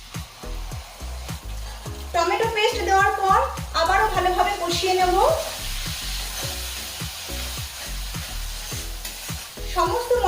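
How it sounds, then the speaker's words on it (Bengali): Spices and tomato paste for a bitter gourd and potato curry are sautéed in a pan with steady, rhythmic spatula strokes scraping over a low sizzle, while a voice speaks briefly through the middle. "এবার এই সমস্ত মশলা ভালোভাবে কষিয়ে নেব"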